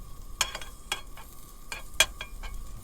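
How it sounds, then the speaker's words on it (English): Pancetta fries in a pan with a low background sizzle, broken by several short sharp spatters and stirring scrapes, close and fairly quiet. "now we're gonna cook pancetta first"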